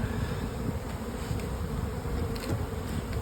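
Honeybees buzz steadily at the entrance of a hive as foragers carry pollen in, a dense, continuous low hum of many wings close by with no voices.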